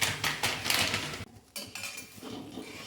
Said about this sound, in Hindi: मेरा कढ़ाई गर्म हो गया और इसमें मैं डालती हूँ सूजी